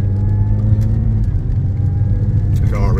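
Audi A6 3.0T with a new rear sway bar on a test drive, its engine humming and road rumble steady and close throughout, with a brief rise near the end.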